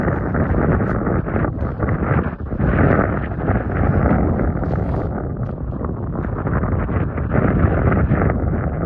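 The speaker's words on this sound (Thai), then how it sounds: "เสียงลมเสียงหนาวมาฝาก" Cold wind blowing steadily during spring snowmelt, a loud continuous rushing roar with gusty swells and buffeting against the microphone, no voices.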